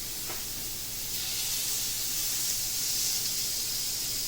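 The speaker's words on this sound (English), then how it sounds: "Let's drop our patties on the grill." Slider burger patties sizzling on an oiled grill, a steady bright hiss that swells slightly and holds, fairly close and on its own.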